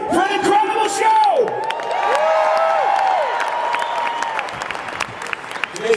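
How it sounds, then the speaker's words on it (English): A concert crowd at a show in St Paul cheers, screams and whoops loudly, with sustained shrill high-pitched screams rising over dense applause for several seconds, close and filling. "you guys can scream louder than that"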